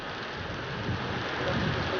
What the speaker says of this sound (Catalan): Mentre la tempesta castiga la ribera